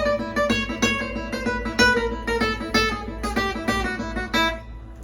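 Gypsy jazz guitar plays a fast lick of chromatic three-note groupings on a single string, crisp picked notes in quick rhythmic bursts over a low background hum, played alone.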